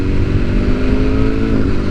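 A BMW S1000R motorcycle fitted with a Black Widow full exhaust system, its engine running loud and close with a deep, steady rumbling drone through the whole short stretch.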